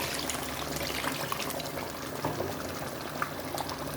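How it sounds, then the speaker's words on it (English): Meat stock, the water used to boil meat for Ofada stew, poured into a stew pot, giving a steady close liquid splashing and gurgling with faint sizzle, no voices. "Now I can add the sauce, that is the water I used to boil my meat."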